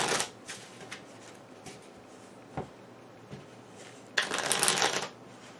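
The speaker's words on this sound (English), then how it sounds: "Now, shuffle again." A deck of game cards riffle-shuffled at a tabletop card game, with a few soft card taps and flicks, then a dense, crisp riffling burst near the end, close and fairly quiet.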